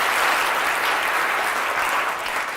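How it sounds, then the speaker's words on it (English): An audience gives a volunteer a round of applause at a live science demonstration, with loud, continuous clapping that fills the whole moment without a break. "can I have a round of applause"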